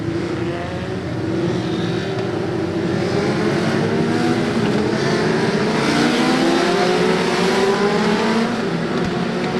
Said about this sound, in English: Now it's time to jam that foot on the accelerator.